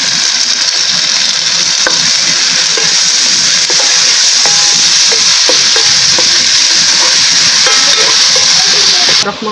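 Garlic ginger paste hitting a hot frying pan, a loud, dense sizzle and hiss that fills the whole clip, with scattered clicks of stirring and a brief drop at the very end.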